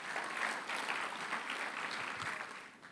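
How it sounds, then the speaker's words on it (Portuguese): Church congregation applauding during a sermon, a full, steady wash of clapping from many hands that stays even for a few seconds before tapering slightly. "Aplauda"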